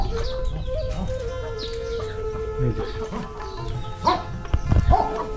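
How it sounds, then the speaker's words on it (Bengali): Native chickens and roosters in a Saudi desert settlement, with hens clucking at moderate distance, a dog barking, and a constant engine hum behind them. "মোরগ মোরগ অনেক মোরগ আছে এগুলা দেশি মুরগা"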